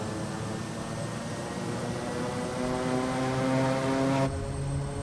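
A SimWorks Kodiak propeller aircraft landing in Microsoft Flight Simulator, its engine and propeller giving a steady loud drone with a slight rise in pitch before cutting to a lower hum near the end.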